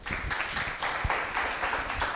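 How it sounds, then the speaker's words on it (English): A short burst of applause from a small group, steady irregular clapping at moderate volume lasting a couple of seconds. "let's give them a round of applause"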